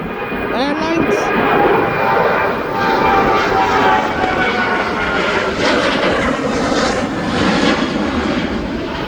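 A TUI airliner bound for Paphos roars steadily at East Midlands Airport, a loud sustained engine rumble and whine holding throughout with no break.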